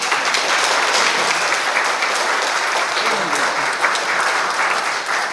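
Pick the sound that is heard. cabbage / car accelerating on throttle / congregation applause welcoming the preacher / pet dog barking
congregation applause welcoming the preacher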